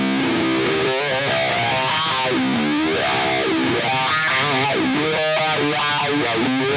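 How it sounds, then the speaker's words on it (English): Distorted electric guitar played through a signature Crybaby wah pedal, its sweeping vocal-like filter rising and falling over a busy melodic line; loud and continuous with no talking. "That would make sense because it is a signature Crybaby pedal."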